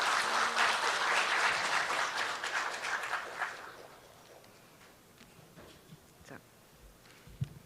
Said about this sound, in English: In welcoming Director Gabriela Ehrlich of IEC with one round of applause.